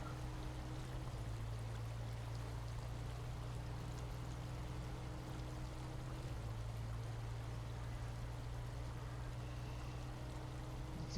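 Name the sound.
water flowing around truck in video game SnowRunner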